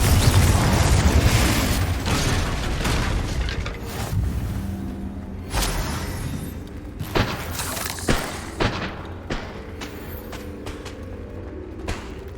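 Spells in the video game Hogwarts Legacy, among them Incendio, Glacius and Confringo, go off as a loud rushing blast that fades. A string of sharp bangs and booming impacts follows, spaced irregularly.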